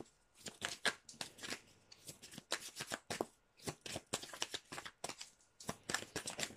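Oracle cards being shuffled by hand, a close series of quick papery riffles and flicks in uneven bursts, soft and alone.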